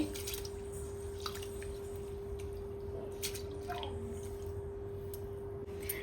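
Soaked rice and fenugreek seeds are washed by hand in water for menthya paddu batter. Soft sloshing, squelching and dripping sounds come close by over a steady low hum.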